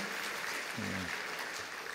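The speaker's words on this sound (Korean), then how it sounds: "우리 박수로 다시 한번 환영하도록 하겠습니다." A church congregation applauds in welcome during a Sunday worship service at Gwangju Yangnim Church, a steady wash of clapping filling the room throughout, with a brief low voice or tone sounding underneath near the middle.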